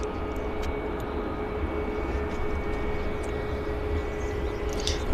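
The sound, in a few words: Porter Embraer airliner landing at Vancouver airport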